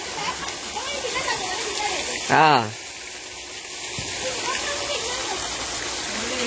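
Water in a resort swimming pool splashes and rushes in a continuous wash, with a brief shouted voice rising over it midway; moderately loud and steady throughout.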